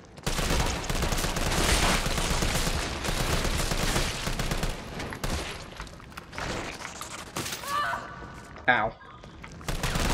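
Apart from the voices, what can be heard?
gunfire in video game Resident Evil 3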